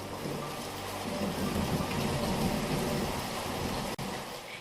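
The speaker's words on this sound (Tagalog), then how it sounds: "dumilim ang paligid, kumidlat at bumuhos ang malakas na ulan" Heavy rain pours steadily as a storm sound effect in a horror story, giving a dense hiss with a low rumbling undertone like distant thunder, moderately loud and continuous, with a brief dropout near the end.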